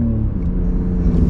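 BMW G80 M3 with a loud aftermarket exhaust, its engine rumbling and revving steadily at close range with a deep, continuous throaty drone and no talk over it.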